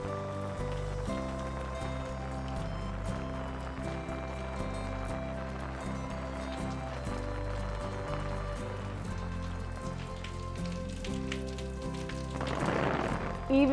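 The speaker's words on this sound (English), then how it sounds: "We have arrived in the pouring rain" Pouring rain in an Italian village, a steady dense patter and hiss holding level throughout beneath a low, tonal background drone, building to a brief louder splash near the end, with no talk.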